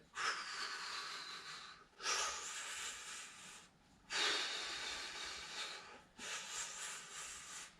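Fast rhythmic breathing during a core exercise: four long forceful breaths, each hissing for about two seconds with short pauses between, close and fairly quiet.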